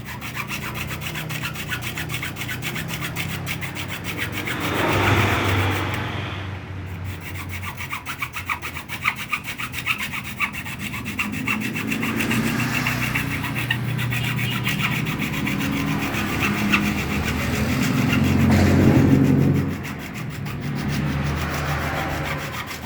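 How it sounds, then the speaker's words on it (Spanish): Half-moon hacksaw cutting through a plastic part of a Kärcher K4 pressure washer, steady back-and-forth rasping strokes close up, with a few brief pauses between bursts of sawing. "vamos a cortar con una cegueta media luna de un costado y de aquí arriba sin perjudicar el triángulo"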